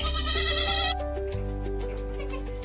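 Newborn goat kids on a village farm bleat close by, with several high, wavering cries following one another and overlapping.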